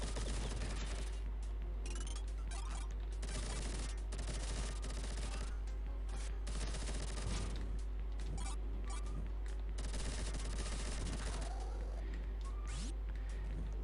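Rapid machine-gun fire from the Vectorman video game, a dense continuous chatter of shots over a steady game soundtrack, loud and up close with no talking.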